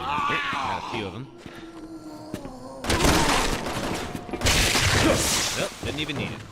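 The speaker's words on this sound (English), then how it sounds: "Nice shooting, Helena." Helena fires in a Resident Evil game, with a loud, dense stretch of shots and impacts in two heavy bursts after a quieter opening where a voice speaks.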